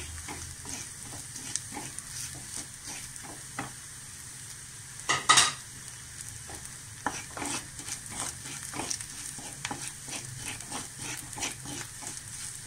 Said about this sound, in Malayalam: തീ ഒന്ന് ലോ ഫ്ലെയിമിലാക്കിയിട്ട് പൊടികൾ വറക്കാൻ